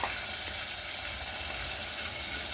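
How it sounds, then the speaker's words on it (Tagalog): Soup with miswa noodles and patola gourd bubbling in a pot, a steady close hiss and simmering bubble that holds evenly with no talk over it. "Ayan, kumukulo na siya."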